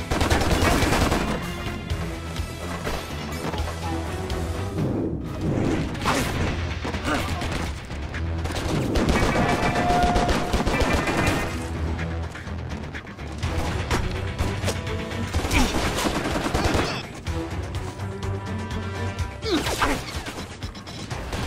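Chaotic gunfire in the video game Stranglehold: repeated loud shots, bursts and crashing impacts pile up over a dense, busy game soundtrack for the whole stretch, with people talking at points.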